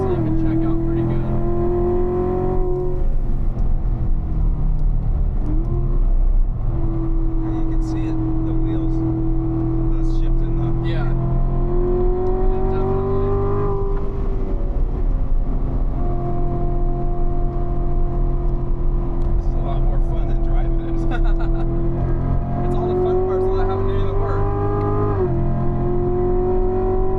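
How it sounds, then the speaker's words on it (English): A Corvette Z06 sports car on a performance driving school track holds a steady loud engine drone through high-speed turns, with pitch rising and shifting as it accelerates, under continuous talk. "Notice there's very little body lean as the Z06 goes through these turns at high speeds"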